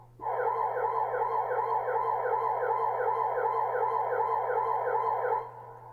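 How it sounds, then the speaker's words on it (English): Old-school 1990s-style ambulance siren effect played on a Roland GO KEYS 3 keyboard, a loud, steady warbling two-tone wail that holds for about five seconds before cutting off abruptly, heard alone. "That sounded like an ambulance from the 90s."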